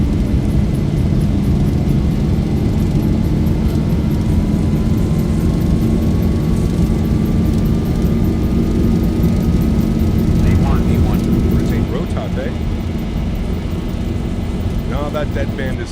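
Boeing 737-800 jet engines at takeoff power in X-Plane 12, a loud, steady broadband roar with a rising whine that runs through the whole stretch, with faint talk near the end.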